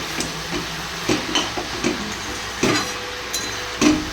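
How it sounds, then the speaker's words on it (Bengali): A steady sizzle of chicken sautéing in a pan, with periodic scraping stirs and soft clinks rising above the hiss. "মাংসটা কষা হচ্ছে।"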